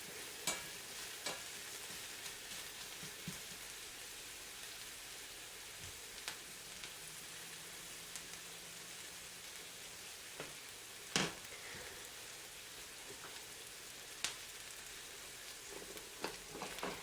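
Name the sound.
onions frying slowly in stir fry pan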